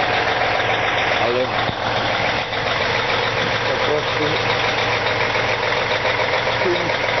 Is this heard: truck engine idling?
yes